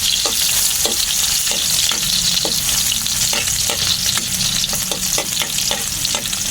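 Garlic and onion sauté in a pan for a saluyot dish, a loud continuous sizzle broken by regular scraping strokes of a spatula stirring the pan.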